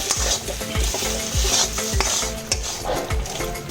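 Fried spices and kasuri methi are stirred in a sizzling pan, with a utensil scraping in rhythmic strokes about twice a second over continuous frying hiss, close and with no talk.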